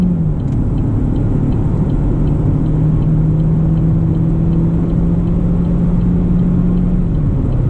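GMC Terrain SLE with a 1.5L turbo engine accelerating hard, heard from inside the cabin as a loud, steady low engine drone and road rumble, with one gear change toward the end.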